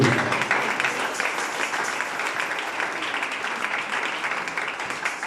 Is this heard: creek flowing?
no